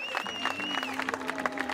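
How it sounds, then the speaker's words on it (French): A crowd claps at the finish of the Tiger Balm Ultra trail race, a short burst of scattered, fairly close applause, with a voice and a sustained musical tone over it. "un maximum, maximum, maximum d'applaudissements pour Louis Saura."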